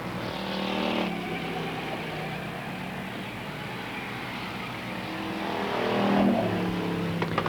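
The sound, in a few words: race cars at Holland Speedway finishing a Challenger heat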